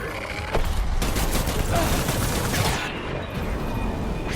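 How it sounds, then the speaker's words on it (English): Dense gunfire in the Death Stranding video game, a sustained loud barrage of overlapping rapid shots and rattling bursts with a few heavier booms, continuous across the whole moment. "Open fire. Taking fire."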